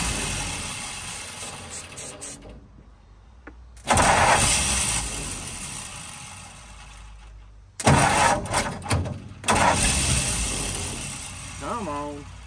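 A 1948 Ford F-5 ice truck's old engine cranks and struggles to start in bursts, loud and close, with pauses between attempts and people talking nearby.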